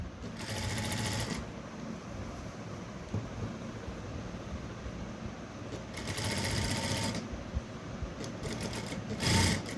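A sewing machine stitching a blouse runs in three short whirring bursts separated by quieter stretches of low background rumble, close and fairly soft.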